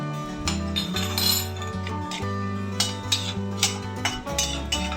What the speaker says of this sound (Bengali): এবার দেবো হাফ চামচ বিউলির ডাল হাফ চামচ কালো সরিষা